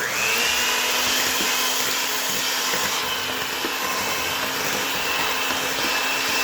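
An electric mixer runs steadily on cheesecake batter with eggs, a continuous close whirring motor drone that holds at a constant level with no talk.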